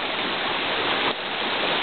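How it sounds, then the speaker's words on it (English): Floodwater pours as a torrent down a normally dry stretch of the Appalachian Trail, a loud, steady broadband rush close to the microphone, briefly dipping before surging on. "What's normally a dry trail is actually just a torrent of water."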